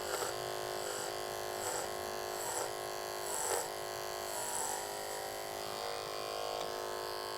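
An electric hair clipper cutting short, straight men's hair: a steady close buzz that swells and dips with repeated short strokes, alone with no talk.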